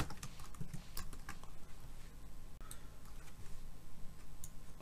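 Quick, irregular clicking of a computer keyboard as Java code is typed, soft and close, with keystrokes coming in short bursts.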